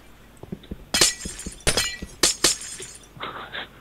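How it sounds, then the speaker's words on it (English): Glass blocks smashing in Minecraft, a series of sharp shattering crashes with clinking debris in an irregular rhythm, preceded by several light tapping hits, loud and close. "Smashing glass."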